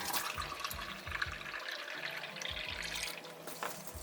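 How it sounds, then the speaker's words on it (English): A tap runs filtered water steadily into a sink, a continuous splashing stream with faint clunks and some low background noise. "I just go here into the sink and grab some filtered water."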